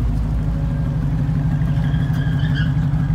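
A worn car engine in need of a full rebuild runs with a deep, steady, uneven low throb, close and continuous, with faint higher whines rising briefly near the end.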